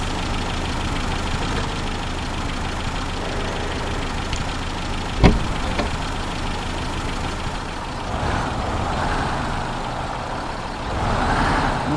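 Steady truck engine idling in the Spintires Mudrunner off-road mud bog game, a continuous low rumble with a sharp click partway through and rising engine roar near the end.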